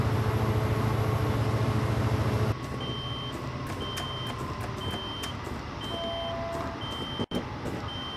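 Regular electronic warning beeps repeat over a steady rumbling engine drone, with a sharp click partway through, in a Train Simulator game aboard a Caltrain MP36 locomotive on the SF Peninsula Corridor.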